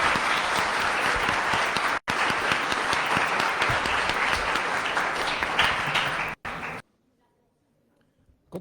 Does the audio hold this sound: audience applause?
yes